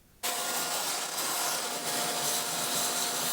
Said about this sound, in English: I'll just get my shop vac and suck up some of this dirt